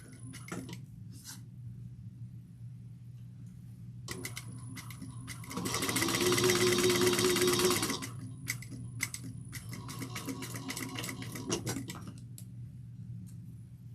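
A sewing machine stitches along the edge of a tote bag in one steady burst of rapid stitching, with quieter clicks and handling noises before and after.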